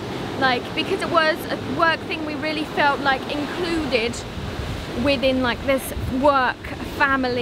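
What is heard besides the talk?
loud ocean waves at Galle Face, Colombo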